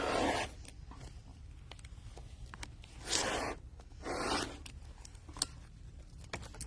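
A blade trims quilting fabric along a 6.5 inch ruler, giving several short, close scraping strokes in separate bursts with pauses between them, and no talking.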